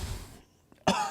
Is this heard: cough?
yes